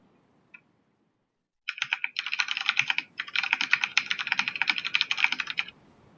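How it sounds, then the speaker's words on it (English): Rapid typing on a computer keyboard, close and clear: a dense run of key clicks lasting several seconds with a brief pause midway, following a quiet moment and a single stray click. "I'm just typing something."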